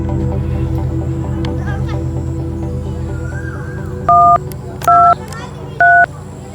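Three short, evenly spaced telephone keypad beeps sound over a steady low electrical hum, preceded by a brief rising tone.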